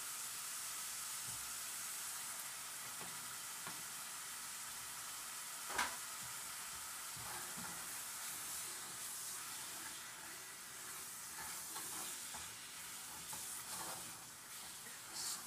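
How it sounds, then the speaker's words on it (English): A beef empanada filling in tomato sauce simmers and sizzles steadily in a pan, with occasional spoon scrapes and one sharper knock as it is stirred; close and fairly quiet, no talking. "Stir this up and let it simmer a little bit with these flavors and this tomato"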